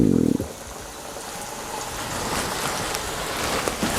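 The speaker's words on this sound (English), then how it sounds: "we're gonna fry these for about 5 to 7 minutes until crispy on the outside" Constant crackling sizzle of chicken wings deep frying in hot oil, a dense bubbling hiss after a brief low thud at the start.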